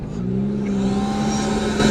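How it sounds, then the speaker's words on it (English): A 2025 Toyota Tacoma Trailhunter off-roader's engine revving hard under throttle, a loud, close, sustained rising drone with strong tonal harmonics held for a couple of seconds. "That throttle response is not comparable to a V6 car."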